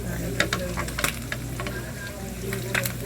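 Yellowfin tuna, a large thick fish, fries in oil with a loud continuous sizzle and bubbling, broken by a few light clinks of a utensil, with no talking.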